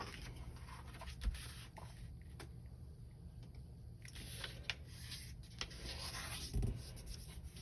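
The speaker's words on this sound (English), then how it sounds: "Now start by folding the right edge to the left edge." A letter-size sheet of paper is folded and creased by hand, giving soft rustles and scraping slides with a few quick crinkles, close and quiet against a faint steady hiss.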